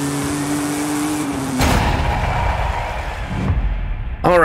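A 1939 Maserati 8CTF racing car in Forza Horizon 5, overpowered for its weight on narrow tires, whines at a steady pitch, then breaks into a rough, loud revving roar with a sharp burst at the end.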